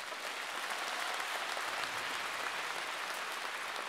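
An audience at a folk music concert claps steadily for the orchestra, fairly distant and even, with no voices over it.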